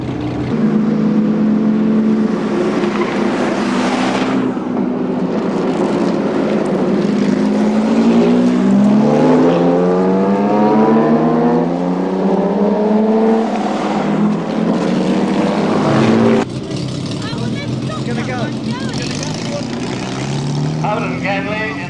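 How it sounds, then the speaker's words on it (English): Large historic racing cars at a Basildon race meeting run hard on the track, their loud engines revving with repeated rising and falling pitch sweeps, then settling into a steady roar. "Late in the day, the big cars and stars went out to run one final time."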